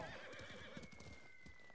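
A horse gallops in the video game Ghost of Tsushima, its rhythmic hoofbeats pounding steadily and close under a continuous bed of game music and ambience.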